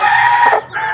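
Brief, close clucking from a hen with her growing chicks, loud and steady before dipping and picking up again, with no talking.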